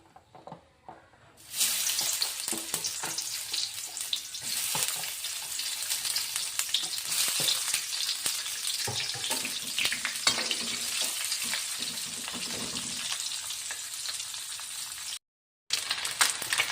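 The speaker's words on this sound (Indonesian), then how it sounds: "Kita goreng dulu ikan bilisnya." Anchovies sizzle and crackle steadily in hot oil, a dense continuous frying hiss with occasional stirring clinks, close and fairly loud.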